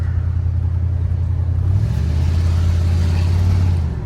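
A 1987 Oldsmobile Cutlass engine running while driving, a steady low rumble from inside the car that rises slightly in pitch midway as the car accelerates, then holds a smooth drone.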